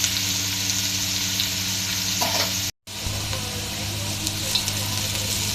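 Sliced onions frying in a pan for chicken biryani, a loud, constant close sizzle with stirring, cut off by a brief gap of silence before the hiss resumes.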